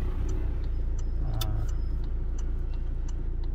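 A car drives along during a driving lesson in Koronadal, South Cotabato, with a steady low engine drone and road rumble inside the cabin plus a rhythmic ticking like a turn signal.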